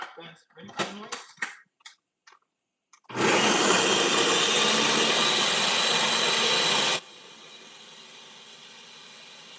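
A kitchen blender whirs loudly for about four seconds after a few brief knocks and clatters, then cuts to a faint residual hum; a voice is heard early on.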